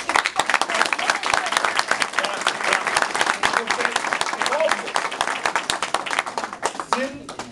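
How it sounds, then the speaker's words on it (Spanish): An audience gathered for the mayor of Newark applauds with loud, fairly dense clapping that rises and falls over several seconds, close by, with a few voices mixed in. "Así que un aplauso, no tan solo para el alcalde"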